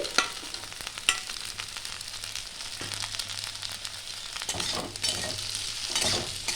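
Tender drumsticks and potatoes sizzling in a pan while a spoon stirs them, steady frying hiss broken by scraping strokes and a few sharp clicks of the utensil against the pan.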